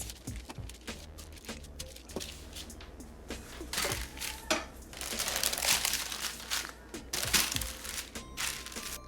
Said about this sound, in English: sandwich it between 2 pieces of parchment paper, and roll it out to a 1/4 inch thickness